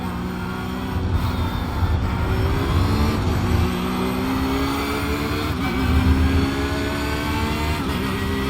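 A Porsche race car engine in the iRacing simulator, a loud, sustained mid-pitched drone that rises and falls slightly with throttle, running alone without talk.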